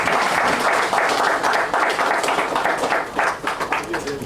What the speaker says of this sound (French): Et ça mérite des applaudissements